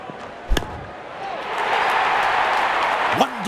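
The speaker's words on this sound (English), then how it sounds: "Wonderful sound of the bat, and that's a six." Cricket bat striking the ball for a six during a live India versus New Zealand Test match at a Bangalore stadium: a sharp single crack, then a rising roar of the crowd and another knock under commentary.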